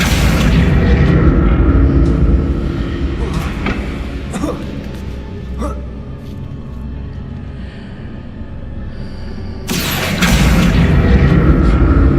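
Bombarda blasting spell in Hogwarts Legacy, a loud deep booming burst with crashing debris that rumbles and fades, then another heavy blast near the end, close and powerful.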